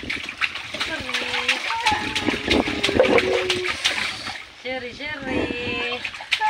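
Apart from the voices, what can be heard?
water splashing while bathing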